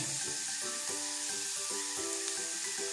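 Ginger frying in a clay pot for puli inji gives a steady, close, bright sizzling hiss that runs the whole way through, with faint tonal sounds in the background.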